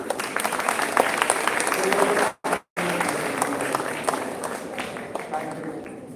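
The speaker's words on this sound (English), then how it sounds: "Let's welcome with a round of applause for our panelists." An audience applauds to welcome the panelists at a live event, with thick, sustained clapping from a crowd that cuts out briefly mid-way and then resumes at full strength.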